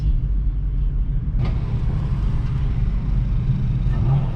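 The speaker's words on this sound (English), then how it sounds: "I love seeing these old Mercedes cars out there." Steady low engine rumble of race cars, including old Mercedes cars, running continuously on a track, a dense droning roar with no speech.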